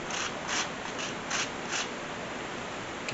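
Lemon zest grated for crab rolls makes a quick series of about six soft, rasping strokes at an even rhythm, close and fairly quiet.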